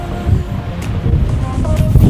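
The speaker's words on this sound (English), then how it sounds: "Still windy. I don't know if you can hear it." Steady low roar of strong nor'easter wind buffeting outdoors in Ocean City, Maryland, continuous and fairly loud, with faint surf-like rumble underneath.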